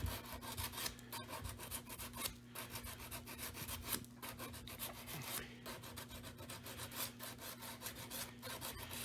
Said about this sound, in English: we're just going to go ahead and chamfer all these little edges down